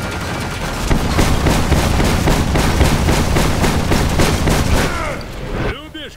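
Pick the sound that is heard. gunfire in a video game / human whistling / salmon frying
gunfire in a video game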